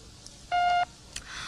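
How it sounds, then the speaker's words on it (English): Answering machine beep after an outgoing greeting, a single clean electronic tone about a third of a second long, moderately loud over quiet line hiss, followed by a faint click. "You have 30 seconds to talk, and remember, wait for the beep."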